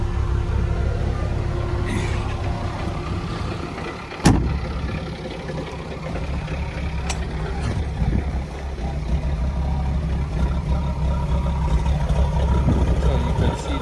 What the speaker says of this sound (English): We'll let it idle for about maybe 20 minutes or so.